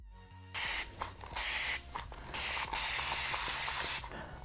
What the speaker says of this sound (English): I'm just going to spray the front of my hair.